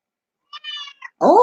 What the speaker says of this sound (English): Hi, kitty kitty. Come say hi.